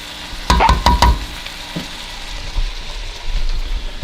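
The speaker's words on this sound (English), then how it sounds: "It's got the celery, the onions, the garlic. Gonna mix this around until it cooks down." Celery, onions and garlic sizzle in a frying pan while a spoon stirs them, with a few sharp scraping clatters early on and a steady soft frying hiss throughout.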